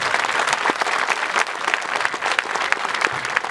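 Football supporters of Ruch Chorzów gathered in the town market square clap in a dense, steady outdoor ovation, loud and close, with scattered sharper claps standing out throughout.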